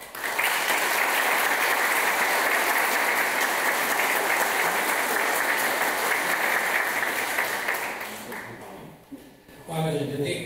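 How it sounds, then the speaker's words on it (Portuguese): A crowd applauds loudly and continuously at a church group's 30th anniversary celebration, a dense wash of clapping that fades after about eight seconds before a voice starts speaking. "Antes de vocês falarem, uma salva de palmas."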